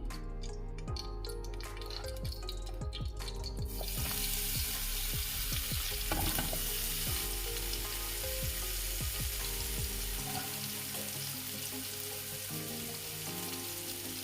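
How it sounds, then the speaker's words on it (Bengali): Long slices of eggplant fry in oil, with a steady close sizzle that swells into a dense crackle after a few seconds and carries on through the whole stretch, punctuated by soft wet pops. "এই তেলে আমি বেগুনগুলো ভেজে নেব"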